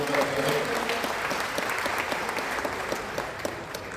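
An audience at a Hindi poetry gathering (kavi sammelan) in Jamshedpur bursts into hearty applause for a poet, dense steady clapping that fills the room and tapers slightly over four seconds.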